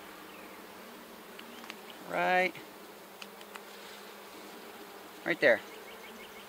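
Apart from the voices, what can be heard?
honeybees buzzing during a hive inspection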